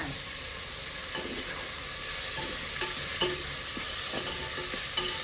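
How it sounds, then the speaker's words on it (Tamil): Tomatoes frying in a pan with onions already sautéed soft, for a country-style goat intestine broth, cooked outdoors. A steady broadband sizzle runs throughout, with scattered scraping stir strokes and clinks, no talking. "தக்காளி போடுறேன் நான் ஏன்னா வெங்காயம் நல்லா வதங்கிடுச்சுல்ல"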